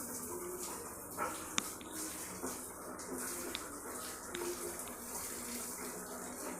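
Tap water running steadily as a dog's feet are washed, a soft continuous splashing stream with a few small knocks and splashes, faint and nearby, with no talking.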